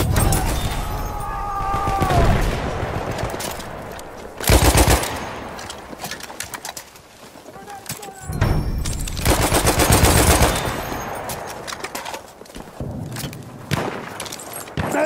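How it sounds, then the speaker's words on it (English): Machine gun fire in Battlefield 1, loud sustained bursts of close automatic shots with heavy booming blasts and mechanical clatter, continuing almost without pause across the stretch. "I'm looking at a machine gun!"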